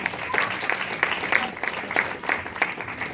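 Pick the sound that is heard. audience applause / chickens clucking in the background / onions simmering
audience applause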